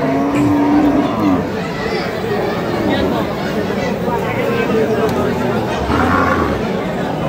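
Cattle at the Khochabari livestock market in Thakurgaon district, with occasional moos rising above a busy hum of crowd chatter and nearby talk.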